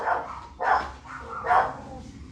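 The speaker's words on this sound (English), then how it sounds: "Sorry about the dog. She's gonna go crazy as my wife leaves the house." Lucy, a pet dog, barking excitedly in a house as someone leaves, three loud close barks spaced about half a second to a second apart.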